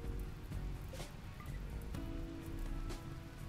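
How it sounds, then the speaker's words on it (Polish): Steady rain falls in the video game RimWorld, a soft, even patter with faint scattered drops and no voices. "To już tutaj mogę odpuścić, bo pada deszcz i zaraz zgaśnie."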